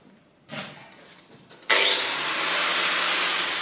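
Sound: angle grinder (Flex) cutting metal

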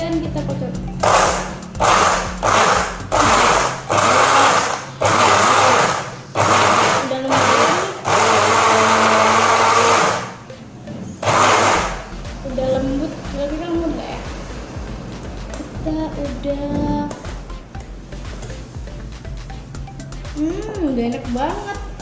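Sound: blender blending banana and strawberry smoothie

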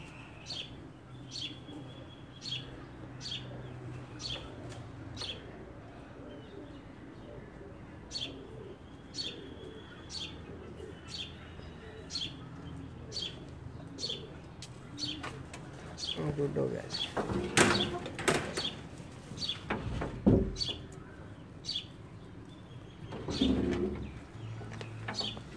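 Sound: Egyptian pigeons cooing

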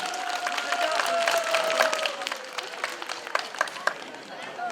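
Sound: applause

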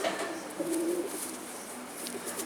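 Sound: pigeon cooing

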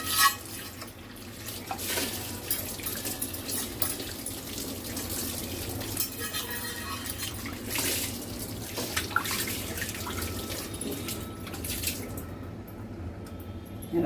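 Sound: washing a new cast iron appe pan with water

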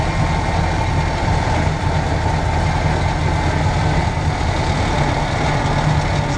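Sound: tractor engine running

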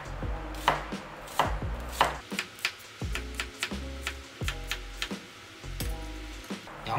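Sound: knife slicing an onion on a cutting board

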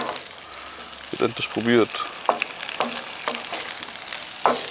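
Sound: onions and garlic sizzling in a pan on a gas grill

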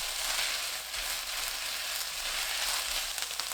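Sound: stir-frying seaweed stems in garlic oil with mirin

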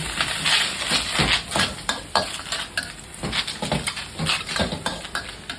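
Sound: stir-frying squid with yellow curry, water added

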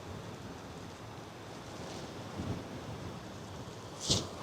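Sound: ocean waves crashing against Portuguese coastal cliffs

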